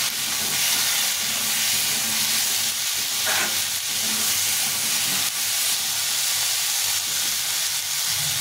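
Turmeric powder and salt frying in hot oil for a fish curry, a loud continuous hissing sizzle with faint stirring, no speech.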